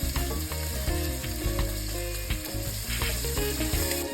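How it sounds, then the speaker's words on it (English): Onions frying in a pan with cumin seeds, a steady loud sizzle running throughout with scraping stir sounds, no voices. "Now I stir the onions."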